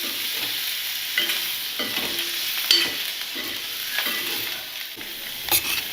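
Chopped coriander is stirred into a sizzling pan, with a steady hiss of frying broken by several scraping strokes of the spoon, close and fairly loud, no voices.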